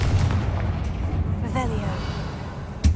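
Confringo blasting spell in Hogwarts Legacy, cast inside an abandoned mine: a low rumbling blast bed with a brief voiced shout midway and a sharp, heavy boom near the end.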